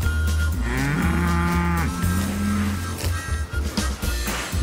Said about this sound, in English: Not to mention those hundreds and hundreds of herds of cows.